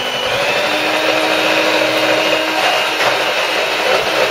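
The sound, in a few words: electric mixer mixing Yorkshire pudding batter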